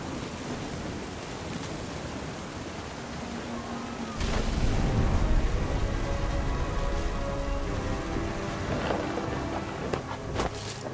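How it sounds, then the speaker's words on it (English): A stormy downpour near a beach, with rain hissing steadily and a deep rumble of thunder swelling in about four seconds in, then rolling on loudly beneath continued rain. "The thunder sounded much too Wow, close wow. and full of angry power."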